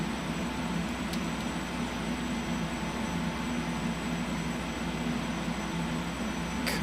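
Northrop B-2 Spirit jet engines start up in the X-Plane flight simulator, a steady, droning turbine hum with a faint whine that holds even and unbroken for several seconds, alone without talk.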